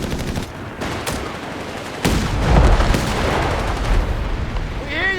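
A 6-pounder anti-tank gun firing in the Company of Heroes 3 battlefield: sharp booming reports amid continuous gunfire and explosions, dense and loud, with a whistling shell sound near the end.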